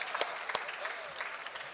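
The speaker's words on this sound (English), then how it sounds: "give her an advance clap for that" Brief applause from a conference audience at a youth climate adaptation event, a soft, even patter of many hands lasting under two seconds, fairly quiet and heard without talk.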